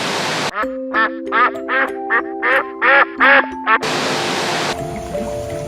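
A duck in a game quacks in a quick series of about eight loud, close, evenly spaced calls over a steady rushing water background.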